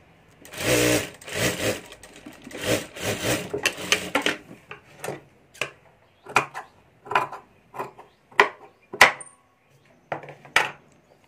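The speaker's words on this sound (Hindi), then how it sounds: "और अब यहाँ नीचे भी सिलाई कर देनी है।" Sewing machine stitching a small doll's dress, a few fast whirring runs of stitching at first, then short separate bursts of needle strokes with clacking pauses between them, close and clear, with no talk.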